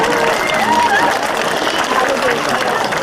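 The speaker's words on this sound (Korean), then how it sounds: "네, 다시 한번 박수 부탁드리겠습니다" A crowd applauds at an outdoor evening lights-off event in a park, giving a steady, even wash of clapping mixed with murmuring voices for a few seconds.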